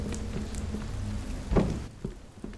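Rain hisses steadily in the video game Fears To Fathom, a fairly quiet, even wash with a few scattered taps and one heavier thud partway through.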